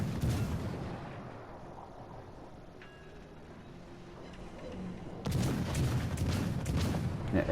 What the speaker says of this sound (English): they're firing a blind shot in hopes of hitting me